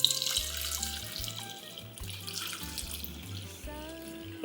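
A batch cocktail pours steadily into a jar, a close, continuous liquid splash and gurgle with small irregular pulses as the stream shifts, no talking over it.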